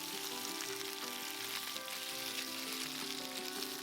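Chicken wings pan-frying in oil, a dense continuous sizzle and crackle, close and steady throughout with no voices.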